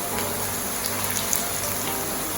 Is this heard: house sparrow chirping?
no